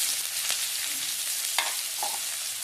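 Onions and garlic fry in hot oil for a dal tadka, after mustard seeds, making a dense, steady close-up sizzle with a few brief spatters and light stirring knocks.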